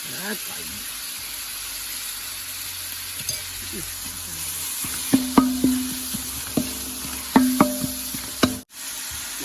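Salted mixed vegetables for fried rice sauté in a hot pan with a low sizzle, then sharp clanks and scrapes of stirring come in rapid bursts near the end.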